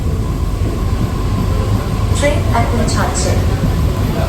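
A Sealdah–Ranaghat AC local train rumbles along near Dum Dum Junction with a steady low roar and hum, and voices chatter faintly in the carriage over the running noise.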